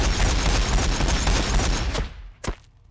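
A dense burst of rapid automatic gunfire from a Warhammer 40K Orks versus Tyranids battle game, loud and continuous for about two seconds, cut off abruptly, followed by one sharp final report and a short fading tail.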